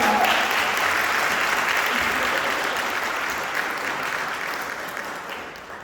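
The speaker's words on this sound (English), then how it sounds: "More applause for Aurelia present." Audience applause at a choir concert fills the room, loud at first and slowly thinning out over several seconds, with no voices standing out.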